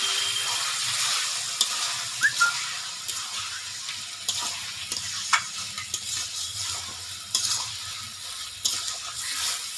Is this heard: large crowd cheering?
no